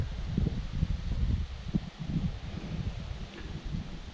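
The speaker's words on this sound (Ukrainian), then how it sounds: "Листя інтенсивно падає, вітер піднявся." Autumn wind gusts through trees in the Carpathian mountains with a steady rustle of falling leaves, low and continuous, no one speaking.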